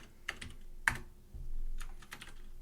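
Keys clatter on a computer keyboard while a game-engine class named for textures is set up, in short bursts of close, crisp taps separated by brief pauses, with no voices.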